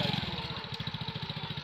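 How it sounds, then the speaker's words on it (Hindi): A motorcycle engine chugs in a rural farm field, a steady rhythmic low pulsing putter that stays fairly close, with a faint background voice. "मौज़म भाई खेतों में जो है ना बाइक लेके आए हुए थे"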